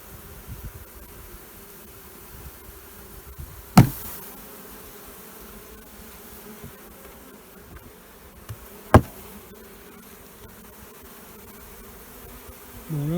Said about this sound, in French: il y a tout plein d'abeilles dans le nourrisseur que je vais maintenant secouer dans la ruche